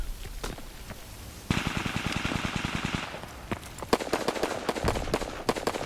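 A Call of Duty WW2 gunfight: rapid automatic fire and dense shot bursts, with a tight run of rounds in the middle and sharp, crackling shots continuing close by to the end.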